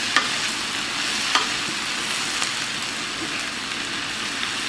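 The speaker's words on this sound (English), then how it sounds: "So you want to let this cook up, saute up." Onions sauteing in a breakfast skillet: a steady, close, continuous sizzle with a few soft stirring clicks and scrapes, no voices.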